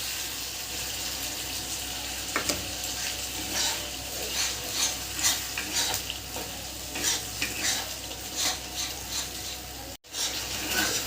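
Pabda fish frying in a pan, a steady broadband sizzle with scattered scraping clicks from stirring, fairly loud and close, with a brief dropout near the end.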